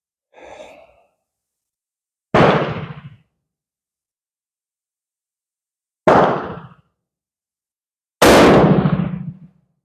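Three sharp, loud Carcano 91/41 rifle shots ring out separately against near silence, each with a short decaying tail, preceded by a faint softer sound.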